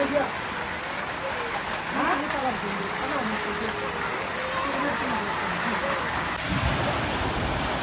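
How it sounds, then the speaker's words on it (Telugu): Steady heavy rain hisses throughout as trees sway in strong wind, with a person talking over it and a low rumble near the end. "వాన అయితే మామూలుగా పట్టలేదు చెట్లు కూడా అసలు గాలికి ఊగిపోతుంది"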